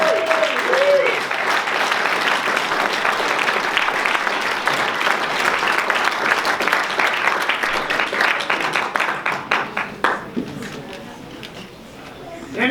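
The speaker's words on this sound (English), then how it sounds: "Let's give Hayden a nice round of applause." An audience applauds at the close of a lecture on skiing history in Gunnison County, with a steady, dense wash of clapping that lasts about ten seconds and then thins out and fades near the end.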